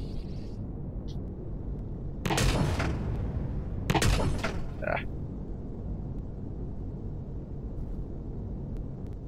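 Plasma cannons fire in the Empyrion Galactic Survival space game, two loud, sharp blasts about a second and a half apart, each with a short crackling tail, over a low steady background hum.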